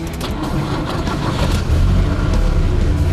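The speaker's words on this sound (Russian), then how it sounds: "Заведите автомобиль." A car engine turns over and catches. The low rumble is steady and close, swells slightly as it settles into running, and no one talks.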